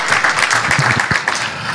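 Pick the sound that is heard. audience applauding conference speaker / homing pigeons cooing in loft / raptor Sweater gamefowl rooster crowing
audience applauding conference speaker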